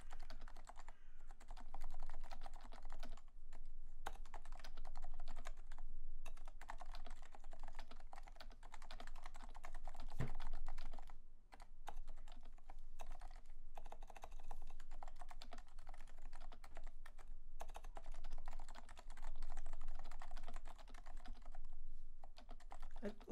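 Continuous rapid typing on a black Leopold FC660C silent-version Topre keyboard with a textured PBS space bar, keystrokes steady and close, muffled and soft throughout with no voices.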